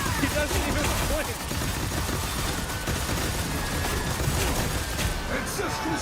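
Gunfire rings out from broadcast news footage, a dense, noisy burst of overlapping shots and crackling commotion that stays loud throughout, with voices mixed into the chaotic backdrop.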